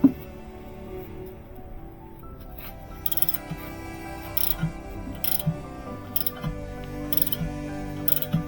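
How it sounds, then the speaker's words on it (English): A hand wrench working a rear shock absorber bolt loose, giving repeated ratcheting clicks and faint metallic clinks at close range. "Use the breaker bar to loosen it first, then switch to a wrench to take it out"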